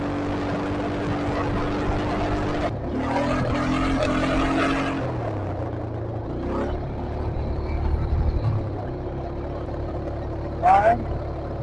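A 2008 Honda CRF150F dirt bike is ridden nearby, its small four-stroke engine buzzing and revving steadily and then rising briefly, while people talk over it.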